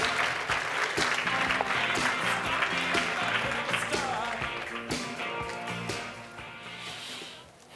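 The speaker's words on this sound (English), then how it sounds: "A big round of applause for both of them." Audience at a media conference applauding two speakers, a full burst of clapping with sharp individual claps standing out nearby, strong at first and gradually fading toward the end.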